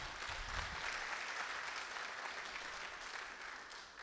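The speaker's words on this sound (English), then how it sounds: "applause for that" Steady applause from an audience at the South Tampa Chamber of Commerce 95th anniversary and Business of the Year awards, a dense even clatter of many hands that holds for several seconds before easing slightly.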